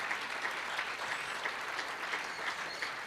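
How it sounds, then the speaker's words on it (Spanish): A church congregation claps steadily together, a dense sustained wash of applause with a loose rhythmic pulse, filling the room for the whole stretch without a break. "Dale un aplauso al Señor, por favor, por su palabra."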